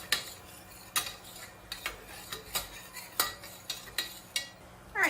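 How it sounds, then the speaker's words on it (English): Minced onions cooking in melted butter in a pan, a soft low sizzle under a regular series of spoon or spatula clinks against the pan, about one every half second, close and fairly quiet. "Our butter is melted. We're going to add our minced onions. Cook them a little bit."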